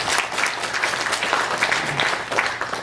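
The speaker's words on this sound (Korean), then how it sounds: "영광의 박수 하나님께 올려드리겠습니다." A church congregation at a Sunday worship service claps in a dense, steady wave of applause that fills the room at full loudness from start to finish.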